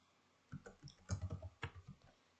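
Typing on a computer keyboard, a quick burst of close, crisp key clicks in an uneven rhythm, with no voices.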